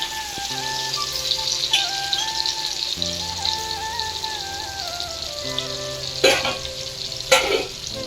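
Pieces of fish fry in hot oil in a pan for a South Indian fish curry, giving a steady close crackling sizzle with a couple of louder spitting bursts. Soft tonal music plays underneath.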